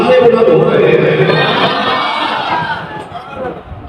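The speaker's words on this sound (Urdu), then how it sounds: "گنج بخش کے نعرے بلند ہو رہے ہیں" A large crowd chants Ganj Bakhsh slogans in unison, giving a loud, sustained mass of voices that slowly fades over a few seconds.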